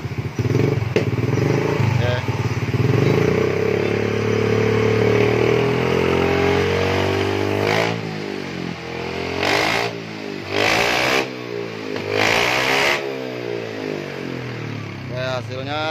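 A Yamaha Mio J scooter fitted with an SKR racing exhaust is revved hard and close, a loud continuous engine roar with rising and falling pitch and several sharp blips near the end, while voices talk faintly over it.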